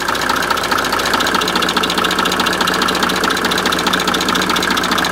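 Mercedes diesel engine idling close by during a blow-by test, loud and steady, with a faint rapid knocking rhythm running through the rumble.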